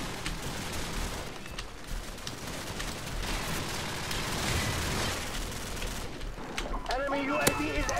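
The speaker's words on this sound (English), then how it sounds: "How am I missing these shots?" Gunfire from a shotgun in Call of Duty 4 multiplayer, dense bursts and crackling shots layered over continuous battle noise, with a few sharper reports near the end, moderately quiet.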